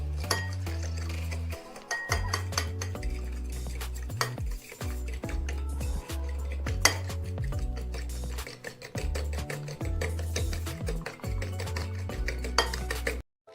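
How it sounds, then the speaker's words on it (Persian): A fork beats egg whites in a bowl, with rapid rhythmic clinking and scraping against the bowl in long steady runs broken by short pauses, loud and close with no talking. "من با چنگال اول میزنم."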